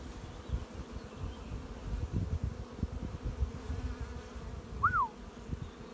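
Honeybees buzz in a steady, close drone as a brood frame is shaken over an open hive. A brief high whistle-like tone rises near the end.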